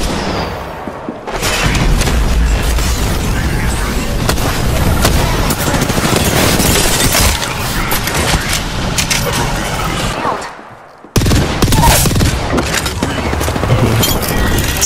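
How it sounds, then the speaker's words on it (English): Sustained, loud gunfire in the battle royale game Apex Legends rattles almost nonstop in dense automatic bursts. It is broken by one brief silent gap before the firing resumes. "Opening fire."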